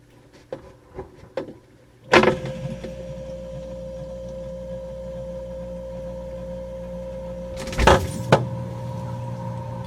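An outdoor cooling appliance is switched on with a sharp clunk and starts humming, a steady motor drone running continuously, then a second pair of loud knocks near the end as the hum carries on.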